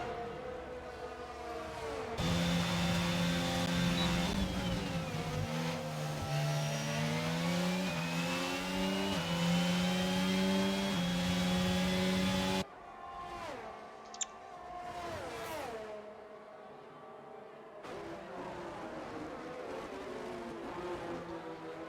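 Formula racing cars in a video game Austrian Grand Prix accelerate with high, whining engines that climb and fall through gear changes, loud and close, then cut to other cars passing at varying distance, with no talk.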